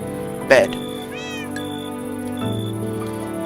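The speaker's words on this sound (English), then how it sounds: "Get my cat out of the hole." Minecraft cat meowing once with a short rising call near the start, followed by a second quieter mew, set against continuous game background sound.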